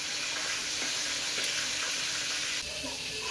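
Fish and garlic fry in a pan, a dense, continuous sizzle holding steady throughout with a few light clicks and scrapes.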